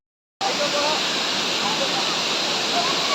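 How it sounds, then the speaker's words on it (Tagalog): Daranak Falls in Tanay, Rizal pours steadily, a loud unbroken rush of falling water that fills the scene after a brief silent start, with faint voices barely audible beneath the roar. "Ayun na ba yung falls mismo?"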